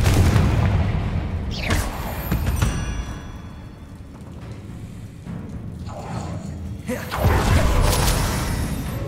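Spell explosions and impacts in the video game Hogwarts Legacy, with loud booming blasts and crashes at the start and again near the end, separated by quieter rumbling game sound.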